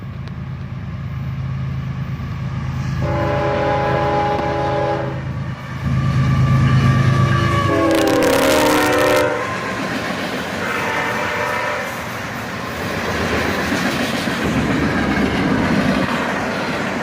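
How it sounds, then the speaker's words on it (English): A CSX manifest freight train with a locomotive on each end passes close by, its loud horn sounding in several long blasts over the continuous rumble and clatter of cars. "This is a manifest train from CSX, and it has a locomotive on each end."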